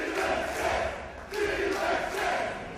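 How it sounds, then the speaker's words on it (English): Wrestling arena crowd at a college fight event chanting in unison, a loud, dense wash of massed voices rising in two swelling waves with a brief dip between them. "The crowd chanting delicious."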